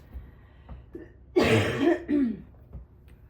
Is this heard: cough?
yes